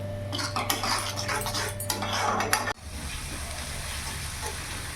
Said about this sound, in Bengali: এবার ভালো করে মশলাগুলো আমি ভালো করে কষিয়ে নেব যতক্ষণ না মশলা থেকে তেল ছেড়ে দিচ্ছে